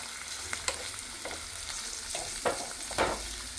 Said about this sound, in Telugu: ఇప్పుడు వీటిని చక్కగా మనం లేత బ్రౌన్ కలర్ వచ్చేదాకా అటు ఇటు కలుపుతా వేపుకుందాం.